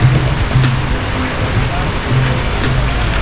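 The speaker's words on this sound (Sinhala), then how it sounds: "අනිකට මඩ වතුර පාරත් එක්ක වතුර පාර සැර වුණා" Rain-swollen waterfall carrying a strong, muddy surge of water, a loud continuous roar and hiss with rain pattering in close and occasional sharper splashes.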